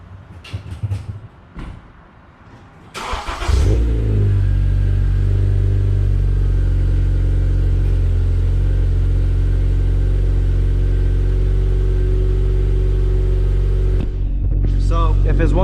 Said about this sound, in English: I'm gonna give you a first start, a cold start, and some drive-bys